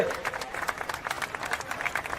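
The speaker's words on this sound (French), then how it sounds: "vous méritez de vous applaudir" Light applause from a crowd at the annual summer festival in Sand Dollar Cove, quick rhythmic clapping heard fairly faint and somewhat distant.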